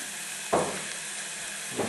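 Garlic paste and onion with rock salt sizzle and hiss steadily in a pan for chicken parmigiana, with two louder scraping bursts of stirring about a second apart, close up and without voices.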